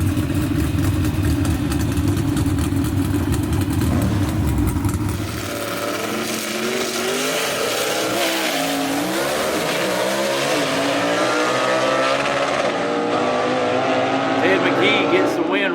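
A 1955 Chevy gasser race car at a drag strip, deep loud engine rumble at first, then rising revving roar as it launches and accelerates away, with an announcer talking over it.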